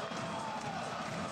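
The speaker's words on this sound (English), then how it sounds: "And the crowd erupts." A crowd roars after a touchdown at a 2023 Panthers Wroclaw American football game, a dense, steady wash of cheering that fills the whole moment.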